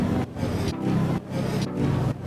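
A synth layered over a looping texture sample in FL Studio plays in steady pulses, with brief dips in sound about every half second and no voice.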